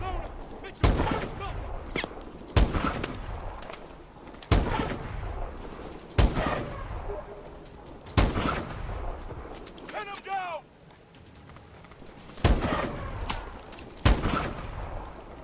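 Gunfire in the Call of Duty: Advanced Warfare Ice Zone mission: heavy bursts and booming shots recur every couple of seconds, loud and close, amid battle noise, with game voices calling out between the volleys.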